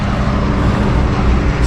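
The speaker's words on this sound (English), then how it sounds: "Oh, now a car comes." A car passes close by on a high mountain road, its engine and tyre rumble loud and steady throughout the brief moment, with no talk over it.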